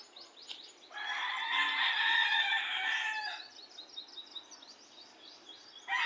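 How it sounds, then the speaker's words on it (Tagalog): Chickens call on a rural farm: a rooster crows loud and close for about two and a half seconds, followed by quick clucking and chirping from the flock at close range. "Naingay yung mga manok."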